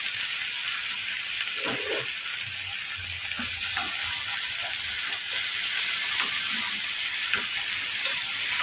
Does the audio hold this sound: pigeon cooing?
no